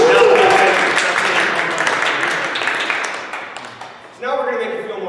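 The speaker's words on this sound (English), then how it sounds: "So give yourselves a round of applause." A live improv theater audience applauds and cheers, a dense wash of clapping that swells loud, thins briefly, then surges back near the end.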